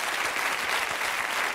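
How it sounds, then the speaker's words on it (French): Brief burst of dense studio audience applause on a French television talk show, continuous clapping at even volume with no talk over it. "moi je pense qu'on peut l'applaudir très fort"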